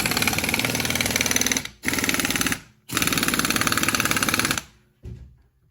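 A pneumatic impact wrench tightening a nut on an Infiniti G35 drive shaft, firing in three loud rapid hammering bursts separated by short pauses, then a brief final burst, close up with no talk.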